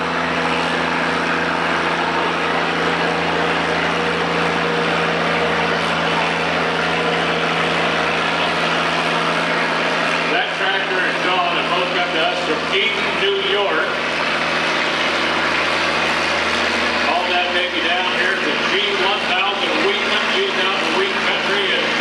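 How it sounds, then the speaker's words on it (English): A Minneapolis Moline G1000 tractor runs at an old threshers show, its engine a continuous heavy drone close by, with a voice talking over the rumble. "Here comes John on the G1000 Minneapolis Moline, John Heyer."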